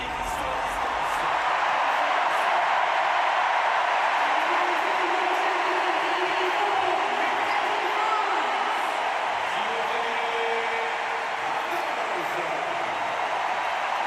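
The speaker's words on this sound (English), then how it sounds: "Listen to the crowd." A stadium crowd roars steadily at a Paralympic athletics final in Paris, with a broad, sustained cheer filling the air while a commentator talks over it.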